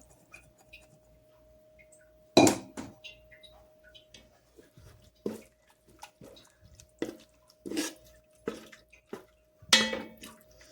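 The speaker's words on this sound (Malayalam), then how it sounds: "ഇതിലോട്ട് നമ്മുടെ വേവിച്ച് വെച്ചില്ലേ നമ്മൾ ചിക്കൻ, അത് ആ വെള്ളത്തോട് കൂടി ചേർക്കണം" Pieces of cooked chicken and their cooking water are tipped into a pan in a home kitchen, giving a run of close clinks, splashes and wet plops separated by short quiet gaps, with a steady faint hum underneath.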